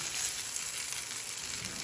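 A poha and wheat flour snack crisping in a pan over a low flame, with a steady, even sizzle of frying that stays constant throughout and has no talking over it.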